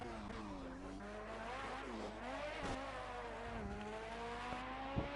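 An LMP prototype race car in the racing video game Project Cars drifts and locks its brakes, its engine droning and sweeping in pitch while tires squeal, with a sharp thump near the end.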